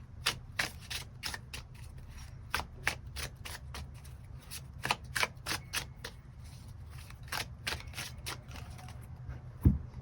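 Tarot cards being shuffled and drawn: a string of crisp, close riffling snaps and flicks in a quick irregular rhythm, with a louder thump near the end.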